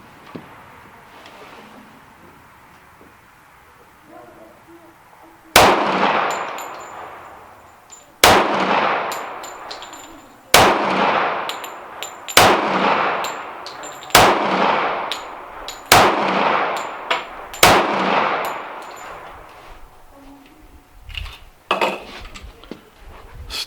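Gunshots from a handgun at an outdoor shooting range: eight loud, sharp reports spaced a couple of seconds apart, each ringing out briefly with metallic echo, after a few quiet seconds of ambient noise.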